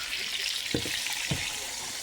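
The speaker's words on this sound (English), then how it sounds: "This is that water I'm pouring on it." Water pours onto food cooking in a pan, giving a steady hissing wash with a couple of soft splashy thumps, close by and moderately quiet, with no voices.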